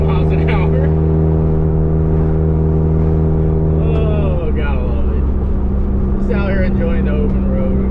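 A cheap, worn-out old car cruises along the open road below 50 mph, its engine a loud, steady drone throughout with a gear or pitch change midway, while people talk over it.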